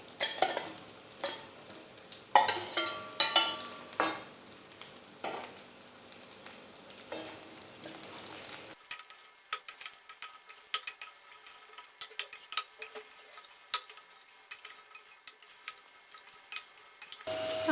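Chopped ridge gourd tossed into a pan of sautéed onion and garlic, with loud scraping stirs and clanks of a utensil over a steady sizzle, busy at first and then quieter with scattered scrapes.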